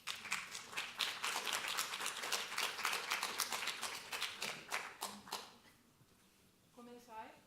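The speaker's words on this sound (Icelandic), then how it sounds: "Við skulum klappa fyrir Huldu Björk Finnsdóttur og Unu Bjarnadóttur." Audience clapping for two speakers at a welfare department knowledge day, a dense burst of many hands that carries on for several seconds, then thins out and stops as a voice begins to talk.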